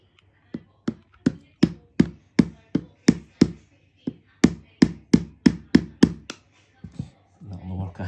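Steady, close taps of a rubber hammer knocking out a BMW S1000RR wheel bearing, two runs of even, sharp blows with a short pause between, then a brief burst of rustling handling noise at the end.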